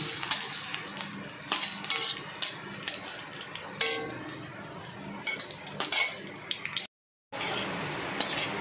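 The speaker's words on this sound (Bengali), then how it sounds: "দেওয়ার পর এই কয়েকটা শুকনো লঙ্কাকে তেলের উপরে ভেজে নিচ্ছি।" Dried red chillies frying in a little mustard oil in a wok, soft sizzling under repeated metallic clinks and scrapes of a spatula, with a brief full silence near the end.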